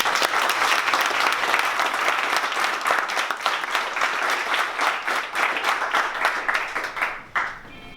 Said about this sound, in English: So for Joe and for Keith, let's clap it up.